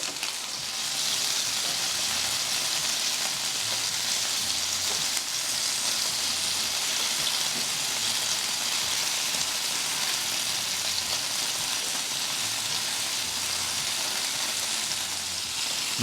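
Chicken wings sizzle steadily on a Ninja Foodi Pro XL grill and griddle, a loud, continuous frying hiss with dense crackle that runs unbroken throughout, no voices over it.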